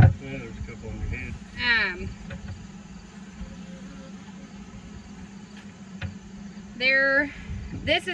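Honeybees buzz around people inspecting a horizontal Langstroth beehive, a steady insect drone with close passes, while people talk over it.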